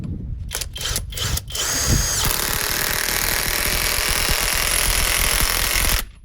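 A LEADER impact wrench drives a screw into a pallet, opening with a few short bursts and then a loud, continuous hammering whir for several seconds before stopping abruptly.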